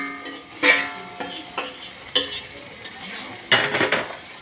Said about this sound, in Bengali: এবারে যে মেখে রেখেছিলাম মাংস, এই মাংসগুলো এখন আমি দিয়ে দিব।